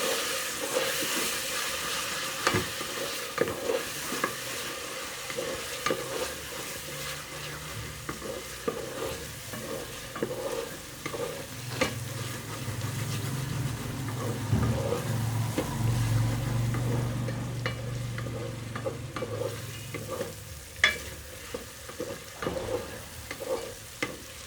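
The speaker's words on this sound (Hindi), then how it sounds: "इसको पकाएंगे लहसुन अदरक का पेस्ट अच्छी तरह।" Garlic-ginger paste fries with a little water added, giving a continuous close sizzle and steamy hiss, broken by frequent scraping strokes of a stirring spoon against the pan.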